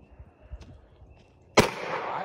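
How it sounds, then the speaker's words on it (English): A single sharp gunshot cracks out loudly and close, followed by a long echoing rumble of reverberation, after quiet low murmuring and movement beforehand. "That's it. Two shots."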